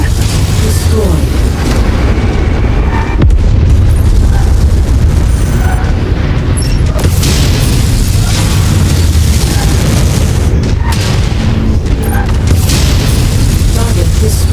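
Heavy booming explosions roll almost continuously as targets are destroyed in the Mechwarrior 5 mech combat video game, loud and dense with layered blasts and rumble.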